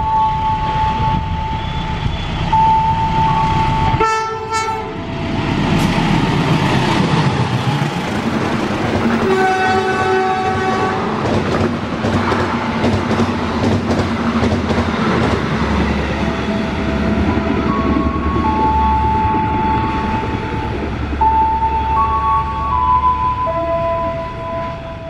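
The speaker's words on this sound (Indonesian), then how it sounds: "lalu melintas kereta api Batavia 7006" The Batavia 7006 train passes with a loud, sustained horn blast followed by the heavy rumble and clatter of wagons rolling by close, a second horn note sounding as the train recedes.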